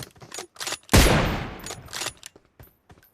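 Gunfire in the mobile battle game PUBG Mobile: a short burst of rapid automatic shots, loud and close, following several quick separate cracks, with faint trailing shots afterward.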